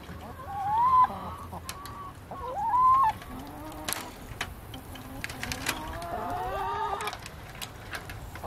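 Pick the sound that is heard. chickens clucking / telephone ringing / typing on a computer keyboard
chickens clucking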